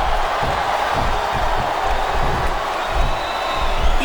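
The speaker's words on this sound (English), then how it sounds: "Wow, listen to that chant, Taz." A dense arena crowd in the WWE SmackDown vs Raw 2007 game roars steadily, a loud, continuous wash of voices with a faint pulsing chant-like rhythm.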